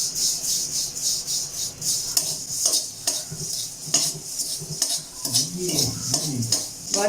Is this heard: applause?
no